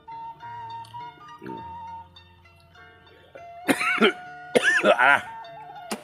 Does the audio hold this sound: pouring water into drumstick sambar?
no